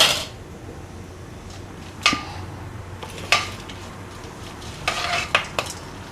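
Cinnamon and cloves fry in hot oil with mustard seeds and dals, a soft background sizzle punctuated by a few sharp spoon clinks and scrapes against the pan, no one speaking.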